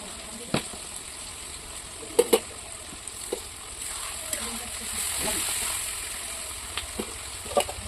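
Onions frying in a pan with a steady soft sizzle, broken by occasional clicks and taps of a utensil stirring, close and moderately quiet.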